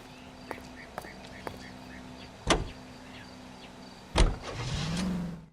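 Car interior in the L.A. Noire video game with a steady low engine hum, a couple of sharp door or window thuds, faint clicks and a rising rev near the end.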